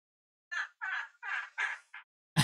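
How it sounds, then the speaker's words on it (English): A seagull squawks five times in a quick irregular series of harsh, raspy calls, close and fairly loud against silence, followed by an abrupt burst of other noise at the end. "Fucking seagull."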